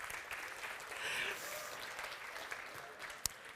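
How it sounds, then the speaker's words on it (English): A conference audience at a space-science event applauds its sponsors, a soft, even wash of clapping from a distance, with a faint voice in the mix. "Let's give them a round of applause"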